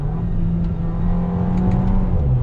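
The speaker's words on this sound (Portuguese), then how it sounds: "O acerto de câmbio dele é muito rápido." A Pulse Abarth car accelerates hard with a loud, steady engine drone close by and a slight pitch change near the end that may mark a quick gear shift.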